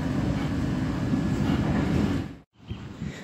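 Inside a moving train, a loud, steady rumble of wheels and carriage noise fills the space, then drops out abruptly for a moment before resuming more quietly.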